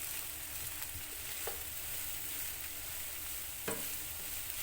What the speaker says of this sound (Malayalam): ഇതിലേക്ക് നമ്മൾ എടുത്തു വെച്ചിട്ടുള്ള ബ്രൊക്കോളി ചേർക്കാം. ഇതൊന്ന് ഇളക്കി കൊടുക്കാം.